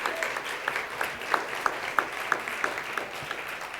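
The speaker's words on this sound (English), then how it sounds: "Let's give her a big round of applause." Light audience applause at an International Women's Day luncheon, a soft, steady patter with a few sharper claps standing out at a regular beat. It stays fairly faint and is heard on its own, with no talking.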